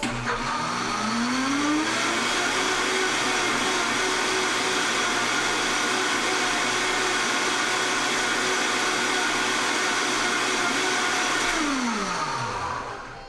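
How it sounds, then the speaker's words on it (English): A Vitamix blender whirs up broccoli cheese soup with a little added water: a motor spinning up, running at a steady high whine for about ten seconds, then winding down, loud and close with no talk. "You add a little water to your blender and you give it a little of the whip"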